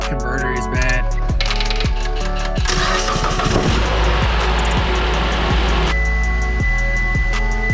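A Mitsubishi Lancer engine, fresh from new spark plugs, ignition coils and an oil change, cranks with a rapid chugging starter, catches with a rising roar, then settles into a steady close-up idle with no voices over it.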